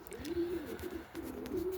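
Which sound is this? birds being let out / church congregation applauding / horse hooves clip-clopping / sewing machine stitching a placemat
birds being let out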